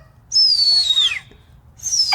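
A person imitates a mockingbird's call with a voice, giving a long, bright descending whistle-like phrase followed by another starting near the end, loud and close, with no talk over it.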